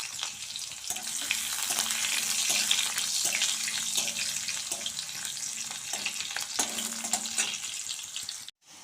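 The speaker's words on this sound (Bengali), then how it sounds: "এই দেখো আম ভাজছি" Raw mango pieces frying in oil with panch phoron and dried chili, a continuous bright sizzle with stirring, ending in a brief bump.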